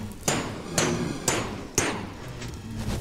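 Blazes being whacked at a Minecraft blaze farm, four evenly spaced sharp hits roughly half a second apart, each with a short trailing thud over steady background noise.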